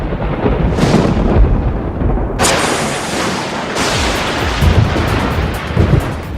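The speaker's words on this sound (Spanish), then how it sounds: "Todos hemos visto rayos durante una tormenta eléctrica" Thunder in an electrical thunderstorm, loud rumbling cracks with a sharp burst of crackling discharge partway through, rolling on continuously with heavy low rumble and no speech.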